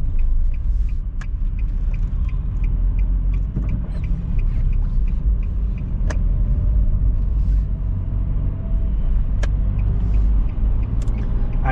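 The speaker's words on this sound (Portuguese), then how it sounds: "que é onde que tá passando todos esses carros aí." Steady car traffic rumbles past on a road in Curitiba near the Linha Verde and a viaduct, a continuous loud low drone of engines and tyres heard from inside a moving vehicle, with occasional sharp clicks.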